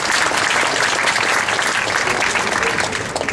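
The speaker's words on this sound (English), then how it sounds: "Round of applause." An audience at a San Jose city council event applauds an apology to Chinese immigrants, a steady, dense round of clapping that holds loud and close for over three seconds without a break.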